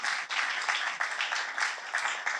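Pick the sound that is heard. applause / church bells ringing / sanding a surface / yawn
applause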